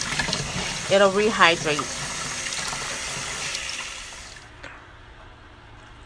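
A kitchen tap pours water while noodles are rinsed, a steady close splash and rush that fades out near the end, with a person speaking briefly over it.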